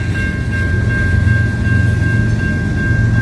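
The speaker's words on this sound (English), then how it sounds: "Here we got a locomotive here coming." Canadian National locomotive 3807 rolling toward the listener late at night, a loud steady rumble of engine and rail noise with a sustained high tonal whine running through the whole stretch, no voices.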